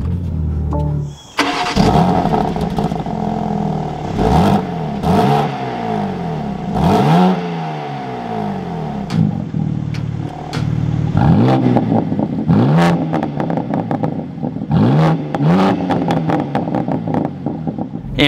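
A 2024 BMW M2 with a manual gearbox starts up with a loud crank and roar, then its engine revs repeatedly, each sharp rise falling back to idle, close and dominant throughout.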